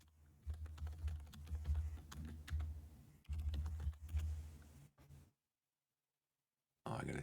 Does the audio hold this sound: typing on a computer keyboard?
yes